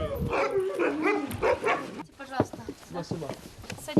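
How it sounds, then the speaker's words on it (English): Barking from some of the roughly fifty sled dogs kept at a home in the Russian Far East, several yips and barks overlapping a voice that talks through most of the stretch. "He says he raises about 50 sled dogs at home."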